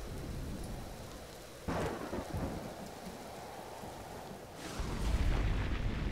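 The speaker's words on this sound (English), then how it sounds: "we've got a storm coming in now" A thunderstorm in Empyrion Galactic Survival: steady rain hisses throughout while two rumbling thunder cracks break in, the second one deeper and swelling louder toward the end.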